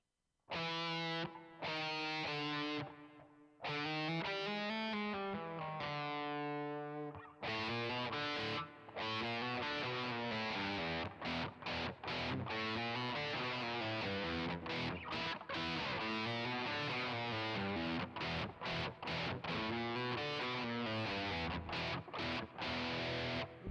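An electric guitar with a gritty, distorted tone plays a continuous lead line, stepping through notes with short breaks, no voices present.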